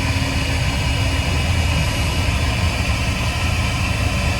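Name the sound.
blown Subaru engine idling, possible rod knock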